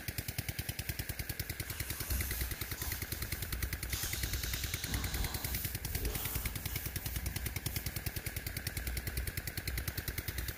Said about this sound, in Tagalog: yung makina ko pong R180 na made in China at saka matagal na yan